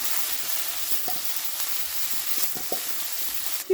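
Beef heart sizzling steadily in a hot pan, a constant close frying hiss with a few faint pops and clinks, no voices.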